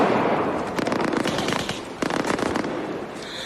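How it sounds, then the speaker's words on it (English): Rapid crackling gunfire from snipers in a film battle scene, dense bursts of sharp cracks running almost continuously, loud and close with a few heavier clusters. "Billy Green's been hit."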